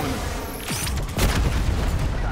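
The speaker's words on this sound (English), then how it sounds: "let's go ahead and use this Hellstorm missile" Hellstorm missile strike in Call of Duty Black Ops 4, heard as a deep booming blast with crackling debris over steady game ambience, a second heavier impact rolling in partway through.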